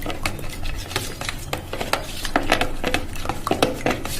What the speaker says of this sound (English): Just mix it up well.